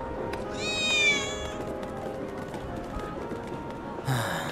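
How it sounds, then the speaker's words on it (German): A cat meows in Final Fantasy VII Remake, a short rising-and-falling meow in the first second or so, followed by a second brief cry near the end over a steady game ambience. "Das war gerade ganz klar eine Katze."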